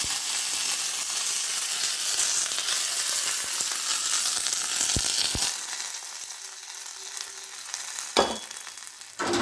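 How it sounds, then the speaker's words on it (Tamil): Mustard seeds and curry leaves sizzle steadily in hot oil, tempering a peanut chutney. The loud, dense frying hiss comes from close by and eases off partway through, with a few pops and scraping stirs near the end. "இப்போ எண்ணெய் ஊற்றியிருக்கேன். இப்போ கடுகு போட்டு"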